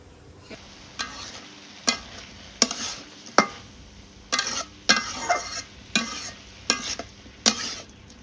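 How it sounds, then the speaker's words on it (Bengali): A vegetable fry cooks in a pan over a wood-fired clay stove, with a low constant sizzle broken by regular loud scraping strokes of a spatula, roughly one every half second to second, close by. "আমি ভাজিটা করতেছি একদম খড়ি নাই কে চুলার ভিতরে"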